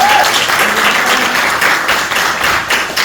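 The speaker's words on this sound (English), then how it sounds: "So round of applause for that." An audience breaks into steady applause at a live Magic: The Gathering word-game gathering, dense clapping from many hands sustained evenly throughout, fairly close, with no talk over it.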